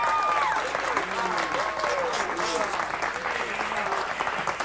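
A studio audience claps steadily on a late-night comedy show, a continuous bed of applause with some voices and laughter layered over it.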